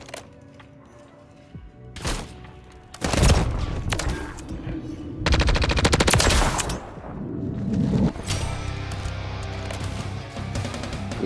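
Gunfire from the MCW rifle with a conversion kit in Call of Duty: Modern Warfare III, loud single shots followed by sustained rapid automatic bursts amid game noise.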